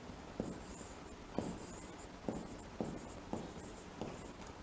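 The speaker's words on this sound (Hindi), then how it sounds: "मैं लिख देता हूं" Chalk or marker writing on a board during a maths lesson, a series of scratchy strokes in an irregular rhythm close by, with no talking.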